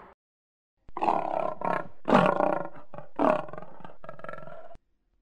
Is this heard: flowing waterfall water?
no